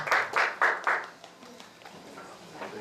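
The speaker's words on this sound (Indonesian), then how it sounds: "Tepuk tangan untuk Pak Benny" A church congregation claps for Pak Benny during a service: a few distinct loud claps in quick succession that fade into faint scattered clapping.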